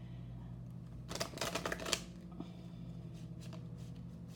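A large, slippery tarot deck being shuffled, a short quiet burst of rapid crisp card flicks lasting under a second, then a few faint scattered taps over a low steady hum.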